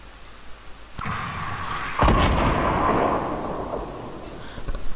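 Rocket explosions in Fortnite, with a sharp blast and a second, louder boom about a second later, each followed by a rumbling, crackling tail.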